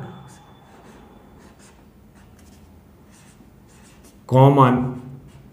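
Pen scratching out a sentence by hand during a lecture on compiler code optimization, faint and steady under a low background hiss, with a brief louder voice-like burst near the end.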